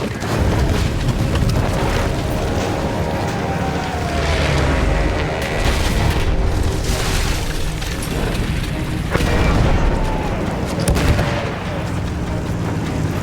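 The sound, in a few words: artillery fire in video game Battlefield 1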